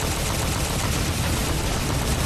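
Sustained, dense gunfire from the Halo 4 video game, a loud, continuous wash of shots with no clear gaps, heard alone with no talk.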